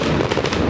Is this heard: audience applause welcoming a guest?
no